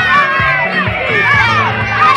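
Children at a summer camp game cheering for the yellow team, a close, loud burst of excited shouts and overlapping young voices.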